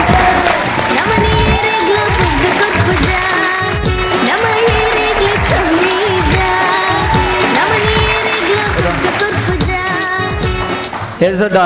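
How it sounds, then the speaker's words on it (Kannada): An audience claps loudly and steadily to welcome a guest onto a stage, dense applause sustained throughout with music playing beneath it. "ಜೋರಾದ ಚಪ್ಪಾಳೆಯ ಮೂಲಕ ಸ್ವಾಗತಿಸಿ ಲಕ್ಷ್ಮೀ ದೊಡ್ಡ"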